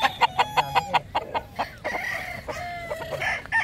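A Kanawayan over Boston chicken clucks in a quick run of short, evenly spaced calls, then gives a longer drawn-out squawk, close and fairly clear.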